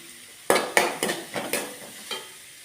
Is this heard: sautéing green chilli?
yes